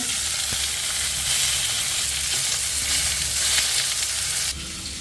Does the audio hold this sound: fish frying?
yes